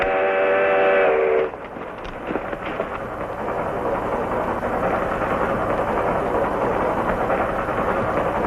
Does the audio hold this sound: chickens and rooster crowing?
no